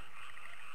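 A frog in the video game Ripened Tingle's Balloon Trip of Love gives a short, continuous croak that is steady and clear, with no voices over it.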